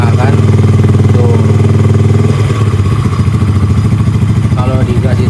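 A motorcycle engine, checked while its battery charging is tested, idles with a steady rapid chug and gets a light throttle blip that swells slightly; loud and close, with someone talking over it.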